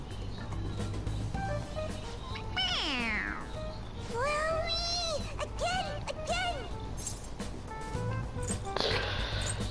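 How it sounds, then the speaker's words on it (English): Stuffed toy cat in Persona 5 Royal meowing when pressed, giving several clear rising and falling meows at a steady level over a low game-music hum. "It meows when you press on its head."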